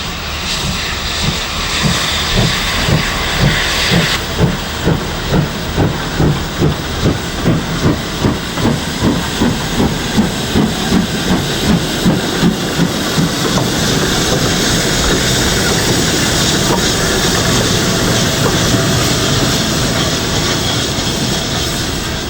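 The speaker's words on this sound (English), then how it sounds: "Birmingham has had to rebuild its rail links into Snow Hill Station, but this one link is special. Steam is back." Steam locomotive Rood Ashton Hall running on the line into Birmingham Snow Hill, a loud steady exhaust beat of rapid chuffs laid over continuous hissing steam, the rhythmic puffs quickening and then blurring into a sustained roar.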